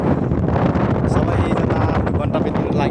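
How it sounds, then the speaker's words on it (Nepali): Strong wind buffets the microphone outdoors near open water, a loud, continuous broadband roar with gusty surges throughout. "हावा चलिरहेछ"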